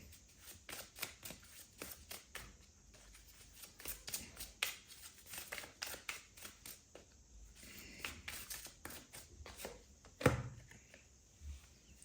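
Tarot cards being shuffled by hand, a long run of quick papery riffles and slaps close up, steady and rhythmic, with one sharper snap near the end and no talking.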